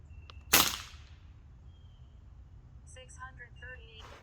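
A single gunshot cracks out loud and close, followed by a short decaying tail, then quiet outdoor ambience with faint voices talking near the end.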